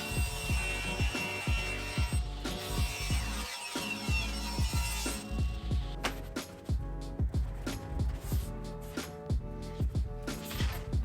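A hand saw cuts a 3/4 inch plywood panel down to size for a kitchen cabinet end panel, with rapid rhythmic rasping strokes close up that continue steadily, without talk.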